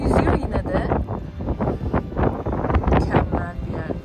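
Cold, gusty wind blows at a Cornwall beach, a continuous close rush and buffeting across the microphone with indistinct voices mixed in.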